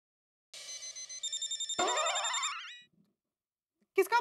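A telephone rings in a Hindi domestic comedy scene, a bright electronic ringtone with a warbling trill that cuts off, then a voice briefly speaks afterward.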